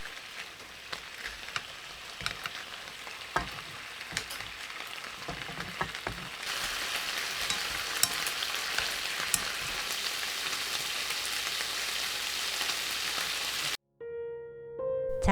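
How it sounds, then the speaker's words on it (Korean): Pork neck sizzles steadily in a pan as it grills in a soy sauce marinade, a dense crackling hiss that swells louder midway and then cuts off abruptly near the end. "고기를 지글지글 구워주세요"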